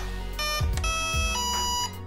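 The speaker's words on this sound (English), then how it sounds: "it detected three cells there for the beeps. You can hear it beep three times" The speed controller of an AtomikRC Barbwire 2 17-inch brushless RTR racing boat plays a run of tones once the battery is plugged in. Three short tones sound close and clear, followed by a longer held tone, with no talk.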